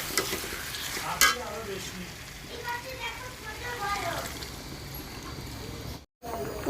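Water added to a pan of sautéed meat curry, with a sharp sizzling burst followed by bubbling, hissing frying and stirring sounds, and faint speech in the background.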